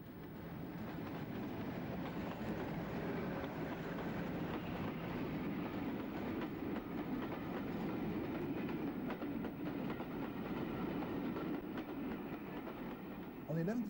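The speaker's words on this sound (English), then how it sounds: "56073 heads the train through Oakhampton." A British Rail Class 56 diesel locomotive hauls a train past at Okehampton, with continuous clickety-clack from the wheels and a heavy engine drone, steady and fairly loud throughout.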